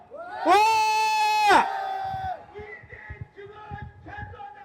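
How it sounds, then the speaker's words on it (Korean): A crowd of doctors at a Seoul medical association protest rally gives a loud, sustained shout of about a second. Scattered voices and murmurs follow. "칭찬의 함성 불러주십시다"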